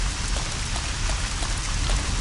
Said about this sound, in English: Nothing. You just hear rain.